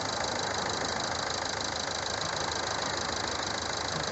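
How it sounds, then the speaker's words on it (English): A Mazda MX5 engine idles steadily and close by, giving a smooth, even purr that runs unbroken from start to finish with no voices over it. "just listen to the purr, the absolute purr of my engine"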